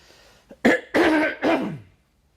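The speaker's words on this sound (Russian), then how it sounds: "I coughed." Three harsh, throaty coughs in quick succession after a small catch of breath, close and fairly loud, then silence.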